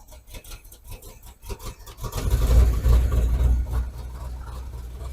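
A 1980 Pontiac LeMans engine cranks and catches after long storage with oiled-down cylinders, rising into a loud, rough, uneven revving rumble, misfiring as if missing on one or two cylinders, then settling to a steady idle.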